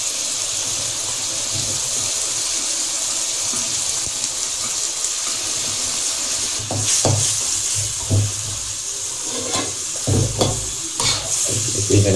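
Onions fry in a pan while carbonara is being made, giving a steady, close hiss and sizzle. Occasional stirring scrapes and clatters rise over the sizzle toward the end.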